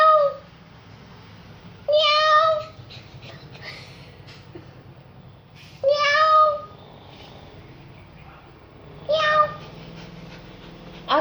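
A cat meows three times at spaced intervals, each call loud, close and drawn out, with quiet room noise between.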